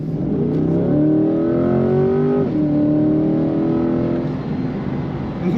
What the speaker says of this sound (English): this car has very, very good acceleration, as you might expect